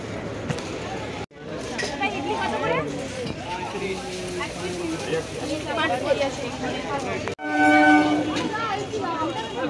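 Galloping train to Krishnanagar at Kanchrapara railway station in the evening, a loud close rumble of passing carriages with horn blasts, heard under steady talking and platform crowd noise.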